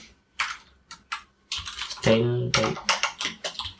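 Computer keyboard typing in quick bursts of clicks while coding HTML styles, with a voice talking over parts of it and a brief hum in the middle.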